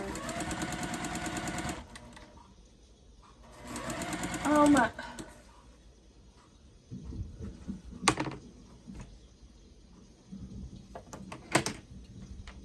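A home sewing machine stitches quilt pieces corner to corner in two quick bursts of rapid rhythmic whirring, followed by softer handling clatter and a few sharp clicks, with someone talking in between.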